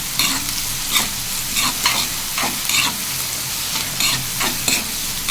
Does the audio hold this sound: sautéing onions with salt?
yes